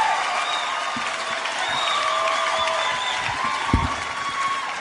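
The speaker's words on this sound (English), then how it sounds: "Why are they cheering that?" A comedy show audience at a Ron White stand-up set cheers and applauds as a steady, distant crowd wash, with scattered claps and whoops throughout.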